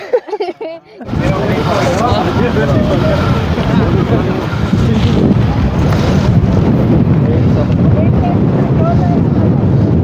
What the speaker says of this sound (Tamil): காற்று எவ்வளோ ஸ்பீடாக அடிக்குது பாருங்க